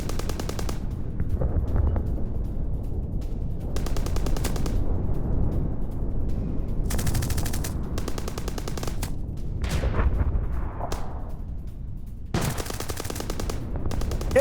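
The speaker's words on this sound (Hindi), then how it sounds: "बंदूक से फायरिंग कर रहा है" Gunfire from a firearm in Gaza rings out in several sharp bursts of rapid shots, loud and close, separated by stretches of low rumbling background noise.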